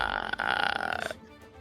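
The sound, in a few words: person imitating a burping creature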